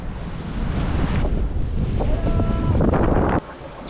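Sailboat moving under a light northeasterly breeze off the Northern Sporades in Greece, with a constant roar of wind buffeting the microphone and waves washing against the hull, loud and continuous with no talking.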